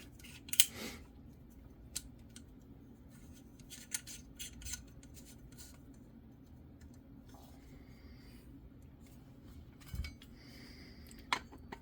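A castle nut being threaded by hand onto an AR-15 buffer tube during a stock reinstall gives sparse, close metallic clicks and light scraping over a quiet background.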